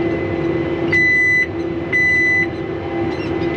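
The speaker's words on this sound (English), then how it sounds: "I swear it beeps every time the camera's on." Two short electronic beeps, about a second apart, sound over a steady low hum.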